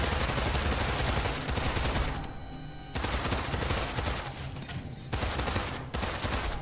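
Enemy gunfire in Immortal Redneck, a rogue-like first-person shooter with an Egyptian setting, sounds as loud, dense bursts of shots in rapid volleys broken by brief lulls, with no talking.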